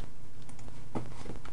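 Computer keyboard keys are pressed in a quick run of light taps, close and moderately loud over steady background noise.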